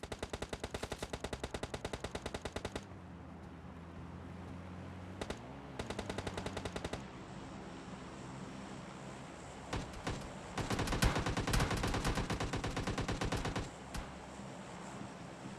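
Rapid automatic M416 rifle bursts and heavy RPG-7 blasts in PUBG Mobile Lite gameplay, loud repeated volleys starting and stopping, with a dense sustained burst near the end and no talk.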